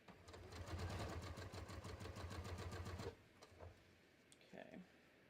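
Domestic sewing machine fitted with a small walking foot stitching a garter belt: a fast, steady mechanical whir with rapid rhythmic needle thumps for about three seconds, then stopping, followed by faint handling clicks and a brief voice.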